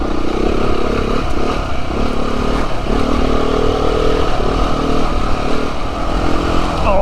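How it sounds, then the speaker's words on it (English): A trail motorcycle ridden off-road, its engine droning loud and close throughout with shifting revs and some rattling clatter, no talk. "Oh, I love trail riding."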